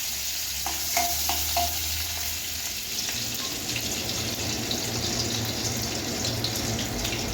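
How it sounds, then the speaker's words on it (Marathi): Finely chopped garlic frying in hot oil for Hakka noodles: a few sharp clinks of a utensil against the pan at first, then a steady, close sizzle and crackle, with no one speaking. "तर आता यामध्ये लसूण बारीक चॉप केलेला घालणार आहोत. चांगला फ्राय करून घेणार आहोत."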